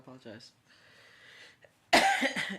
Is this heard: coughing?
yes